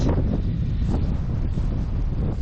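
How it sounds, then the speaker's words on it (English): Wind gusting across rural French countryside during a bicycle touring stop, a loud steady rumbling buffet against the microphone with slight swells, no talk. "The wind is picking up quite a bit"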